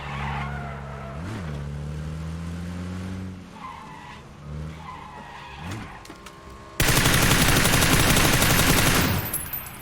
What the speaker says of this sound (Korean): 오토바이 오는데?